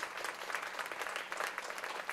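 A crowd at a charitable event gives a guest a loud, dense round of applause, with continuous clapping and no talk, filling the short moment.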